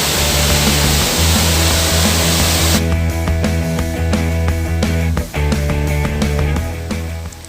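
Baruttung Gollae waterfall, one of a three-tiered cascade, roars as a dense steady rush, with rhythmic musical tones layered over it through the second half.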